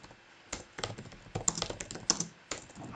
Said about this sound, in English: what's going on with my typing today?